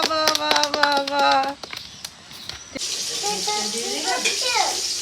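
Eggplant frying in a pan in a home kitchen hisses and sizzles steadily through the second half, under people talking; the opening is dominated by other tonal sounds and voices.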